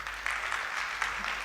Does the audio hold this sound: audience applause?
yes